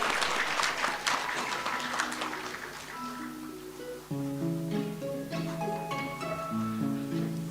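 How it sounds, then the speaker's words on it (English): Applause from the audience at a skill awards closing ceremony as a winner is honored, steady clapping at first that fades under music entering partway through. "A round of applause for the winner."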